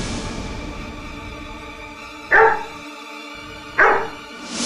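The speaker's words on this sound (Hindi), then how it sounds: "ये कुत्ता इन्हें देखकर भौंक रहा।" Two sharp dog barks, spaced about a second and a half apart, ring out over a quiet background with a faint hum.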